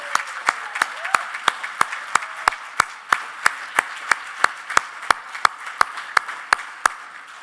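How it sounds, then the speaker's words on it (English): Audience at a Salute to Jewish Educators event applauding with loud, sharp claps in a steady rhythmic beat, roughly three per second and sustained for several seconds in a reverberant room. "So I think this would be time to applaud Tzipi."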